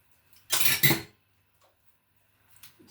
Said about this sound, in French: Et pour terminer, je vais mettre une cuillère.